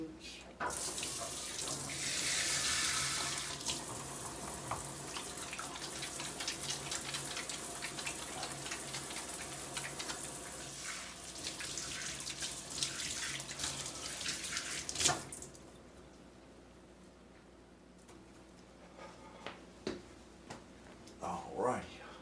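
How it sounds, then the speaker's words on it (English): Hands being washed under a running kitchen tap, a loud continuous stream of splashing water that stops partway through, followed by quieter handling sounds, with a voice speaking over it. "let me wash my hands."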